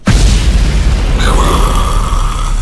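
A Napalm Records video intro opens with a sudden loud boom that rolls into a sustained roaring rumble, joined after a second by a steady high tone and shimmering hiss, all heard alone.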